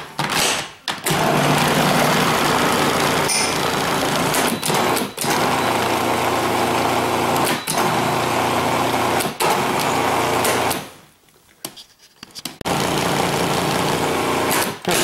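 An electric mixer whirling heavy whipping cream into keto peanut butter waffle batter, a loud steady motor whine running in long bursts with brief stops and one longer pause near the end.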